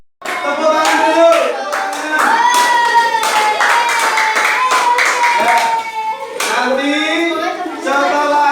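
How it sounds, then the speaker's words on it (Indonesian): Schoolchildren in a classroom clapping their hands together, a quick rhythmic patter of many small hands that runs through most of the passage while children's voices chant and speak loudly over it. "Tepuk tangan dulu."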